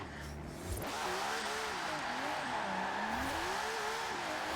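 A car drifts with wheel spin in Forza Horizon 4, its engine revving and wavering in pitch as the throttle swings up and down, with tire squeal, loud and continuous after a brief lift at the start.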